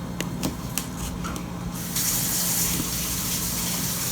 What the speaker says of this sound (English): And we have washed the strawberries.